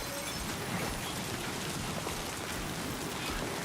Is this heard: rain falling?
yes